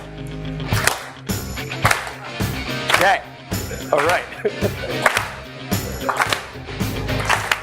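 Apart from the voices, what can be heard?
audience clapping to the beat of music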